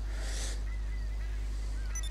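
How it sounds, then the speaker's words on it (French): Seagulls in GTA V give a couple of short honking squawks at the start, then thinner bird calls trail off over a low steady game hum. "c'est des mouettes, c'est des mouettes, le prends pas. Ah oui, c'est des mouettes."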